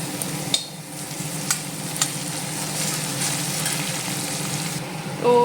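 Crushed garlic frying with onions in a pan for a home-style chicken recipe, a steady close sizzle with a few light scrapes of stirring, then a brief louder burst near the end.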